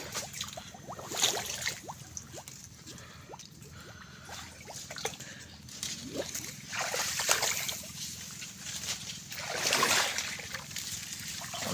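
Rough sea water splashes and sloshes around a small fishing boat checking crab traps, irregular wet slaps and drips rising in bursts, fairly close and moderately loud.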